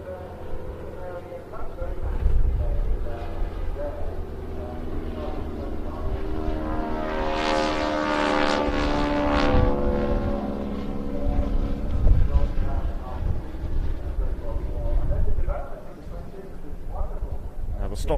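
Boeing Stearman biplanes carrying wing walkers drone steadily overhead at an air festival, a continuous propeller engine roar that swells in the middle, with a commentator talking throughout.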